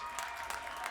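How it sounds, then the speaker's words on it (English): Audience applause for a graduate receiving a fine arts award at a 2019 commencement ceremony, a brief, steady wash of clapping that sounds moderately distant with no voices over it. "I knew the holding applause thing wouldn't work. Go ahead, clap for him a little bit"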